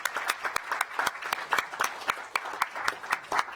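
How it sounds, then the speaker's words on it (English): A small audience at a county council session gives a round of applause for guests, with distinct, scattered claps at moderate distance, fairly quiet and uneven in rhythm. "Again, another round of applause for our guests."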